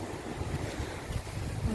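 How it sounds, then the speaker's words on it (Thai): Strong surf rolling onto a tropical beach lined with coconut palms near a hotel, a steady close wash of breaking waves with gusty wind noise buffeting the microphone throughout. "เสียงคลื่นแรงใช่"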